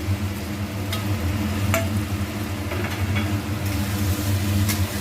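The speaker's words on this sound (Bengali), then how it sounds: "এবার আবার মিনিট দুয়ে ভালো করে নাড়াচাড়া করে নিই" Fried potatoes are stirred into a jackfruit curry in a pan, with a steady low sizzle and periodic scraping clinks of the spoon against the pan.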